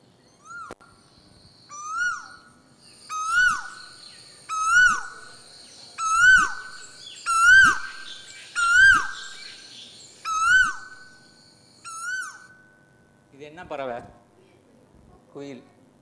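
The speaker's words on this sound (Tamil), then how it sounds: "குயில்," A recording of an Asian koel plays at a literature festival talk, giving a series of about nine rising, fluty calls that build and repeat in a steady rhythm, clear and fairly loud, then stop.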